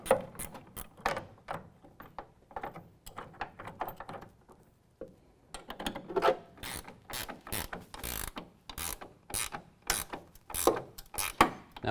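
A ratcheting clamp being tightened onto a TruXedo Edge tonneau cover rail on a 2017 Chevy Silverado 2500 HD, a close run of clicking pawl ratchets in uneven bursts with a short pause partway through.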